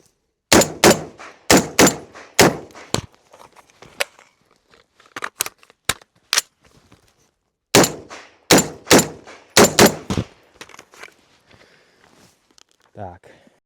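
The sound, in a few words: gunshots from Grand Power R308 .308 Win rifle, El Presidente drill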